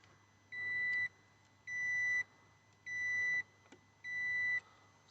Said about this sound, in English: I'm going to run a continuity test with the tester here